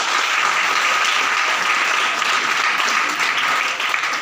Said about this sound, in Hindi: एक बार पूजा जी के लिए ताली बजा दो